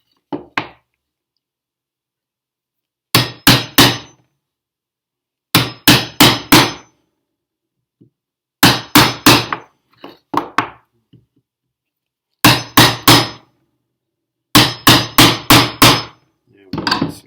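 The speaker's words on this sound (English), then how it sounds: "And there's my hammer right in front of me." Hammer striking a chisel to score and snap wood for a phone or tablet holder, close sharp blows in bursts of three to five evenly spaced hits separated by pauses.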